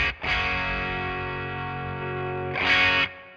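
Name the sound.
guitar through Two Notes Opus amp simulator with EQ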